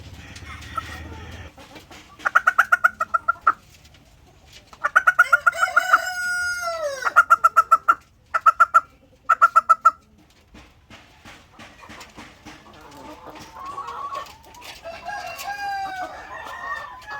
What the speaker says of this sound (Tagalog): so napakagandang pagmasdan nitong ating mga white leghorn cross ng black australorp na nangingitlog na talaga sila